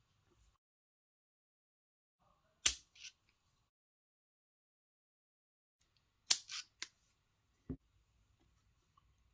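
Foam cylinders being cut for a floating fishing jig: a few sharp, isolated snips spaced apart in an otherwise quiet room, one lone cut followed later by a quick cluster of three and a final softer click.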